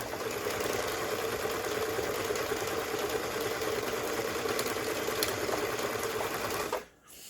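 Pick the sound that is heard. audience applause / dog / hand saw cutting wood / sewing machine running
sewing machine running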